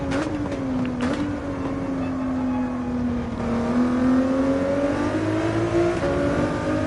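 A race car at Abu Dhabi, its engine droning steadily on track with a slowly rising pitch, loud and close, as if heard from onboard, with no talk.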